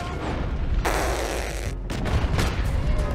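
Gunfire in Red Dead Redemption 2 rings out in several sharp, loud shots in quick succession amid dense game noise.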